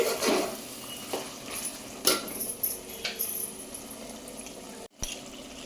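A spoon stirring chili powder into mutton keema curry in a pot, with soft scraping and a few sharp metallic clinks against the pot's side, quiet and close with no talking.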